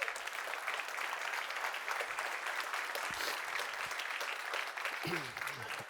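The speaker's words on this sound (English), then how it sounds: "So let's give these folks a round of applause" Sustained audience applause fills a large keynote hall, a dense, steady wash of many hands clapping at moderate distance, with a brief voice near the end.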